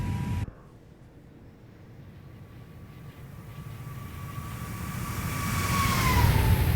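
A simulated Airbus A320-family airliner with CFM LEAP-1A engines flies past, its jet whine rising gradually from a low rumble into a loud, swelling roar as it nears.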